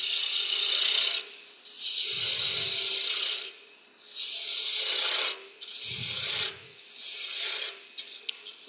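A spindle gouge peels wood from a spinning Christmas ornament blank on a lathe, a bright hissing scrape in repeated passes of about a second, with short pauses between, fairly close and without talk.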